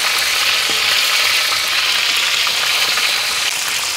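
Chicken pieces fry in hot oil in a pan over a wood-fired stove, giving a steady, loud, close sizzle and crackle with no talking.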